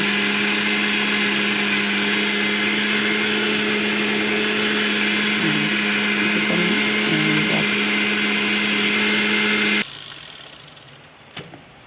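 Electric mixer grinder whirring steadily and loudly while grinding fish fry masala to a fine paste, then cutting off near the end, leaving quiet room sound and a brief clink.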